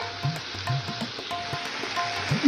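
Meat fries lightly in a pan with a steady, soft sizzle and faint stirring scrapes recurring at a regular pace, close by and with no voices.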